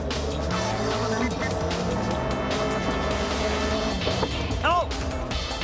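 Race cars roar at full throttle with tires squealing and a brief skid as cars make contact in a 2006 race, while a commentator talks excitedly over the engines.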